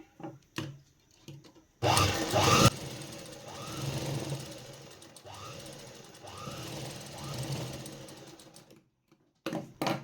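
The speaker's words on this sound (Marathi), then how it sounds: "आता इथून आपल्याला अशी शिलाई घ्यायची याला एक शिलाई मारून घ्यायची इथं" A sewing machine stitches piping onto fabric, its motor giving a steady mechanical whir in runs after a brief loud burst near the start, with short quiet pauses between passes.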